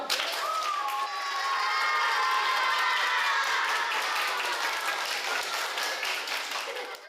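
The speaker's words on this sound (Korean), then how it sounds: "다 같이 박수로 수업을 마치겠습니다. 박수!" A classroom group claps together in sustained applause, dense and steady for several seconds, with a few scattered cheers mixed in.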